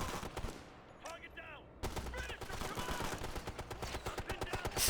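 Rapid gunfire rattles in bursts in the video game Ghost Recon: Future Soldier, with dense, repeated shots and impacts close up throughout, over game background noise.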